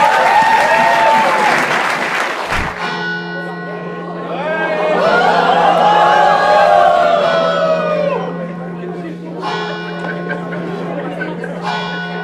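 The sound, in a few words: audience applause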